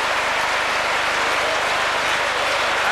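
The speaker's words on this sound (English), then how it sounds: "Applause from the bench." Applause rings out from the bench after a great save in a 1988–89 football match, a dense, continuous patter of clapping mixed with broad crowd noise, loud and unbroken.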